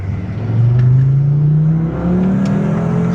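A Ford Focus ST engine revs up loudly with a rising drone, pulling hard through the gear with a steady, close-up roar.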